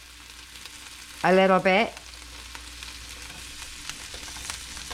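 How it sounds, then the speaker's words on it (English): Gnocchi sear in a hot pan with a steady close sizzle that holds throughout, briefly covered by a short spoken phrase early on. "We're gonna let these try and sear"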